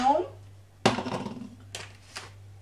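Chopped onion dropped into olive oil warming in a pan: a sudden clatter and sizzle-like burst after a brief voice, then a few softer scrapes and taps, with a low steady hum underneath.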